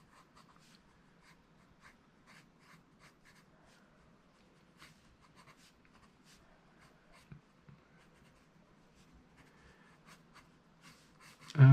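A blue pencil scratches across a smooth, slightly textured tracing pad in short, soft strokes, faint and close, with quiet pauses between marks and a brief thump at the end.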